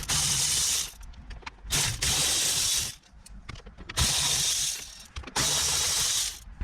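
A ratchet wrench clicks rapidly and loudly up close as it backs out car radio mounting bolts, in several bursts of fast ratcheting separated by short pauses.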